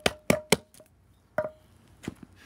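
A metal lid is tapped back onto a can of Bondo body filler, giving several sharp knocks in quick succession and then a few lighter taps. The sounds are close and clear, with no voices.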